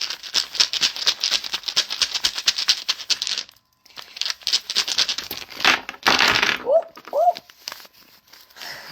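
Dice being shaken and rolled: a rapid rattling clatter of small hard objects, pausing briefly, then tumbling again, close and fairly loud, ending with a couple of light clicks.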